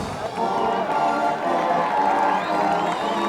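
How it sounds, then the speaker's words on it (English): A crowd at a 1984 East Brunswick high school football game against JP Stevens gives the East Brunswick team a sustained round of applause and cheering, heard from a distance, with a commentator's voice over it. "The East Brunswick team receives a nice hand from this crowd."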